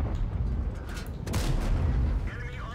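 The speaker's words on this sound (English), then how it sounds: "we are trading shots at the moment" Tank cannon fire in a World of Tanks battle with the T110E5, a loud close booming shot followed by another heavy blast and rumbling gunfire over continuous battlefield noise.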